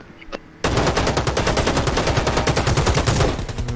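Rapid automatic gunfire from a firefight in the battle royale game Rules of Survival, a dense sustained burst of close, loud shots after a brief quieter lead-in.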